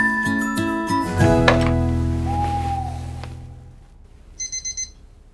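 A jangling musical chime sequence rings and fades, followed by a short burst of four rapid high beeps like an alarm clock.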